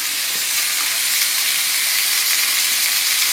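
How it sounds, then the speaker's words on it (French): Sauce hitting a hot pan of beef and onions, a loud, steady sizzle with bright hissing steam that holds unbroken throughout, with no voices. "Donc là, on va incorporer notre sauce"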